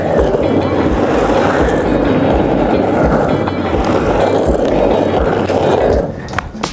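Skateboard wheels roll steadily on pavement while someone skates, a continuous close rumble with wind buffeting, easing off near the end.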